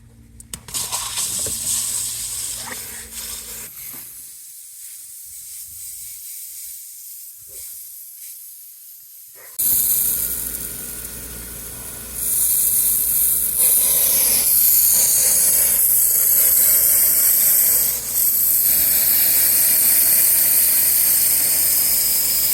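Compressed air hisses loudly out of an opened zone of a secondary-water sprinkler system during a blowout. After a quiet stretch, a strong steady rush builds and holds, growing louder midway with brief dips.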